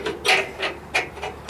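New bolts being fitted and tightened during a trailer leaf spring reassembly give a few close, quick ratcheting clicks in short bursts, with no talk.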